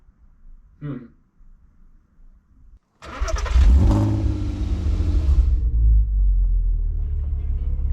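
An Audi TT mk2 with the 3.2 engine cranks and fires up after a brief quiet stretch, then settles into a deep, loud, throaty idle close by.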